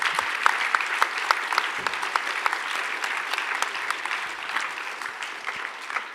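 An audience at a cinema talk applauds, with crisp individual claps standing out from a sustained, fairly close ripple of hands that thins slightly toward the end.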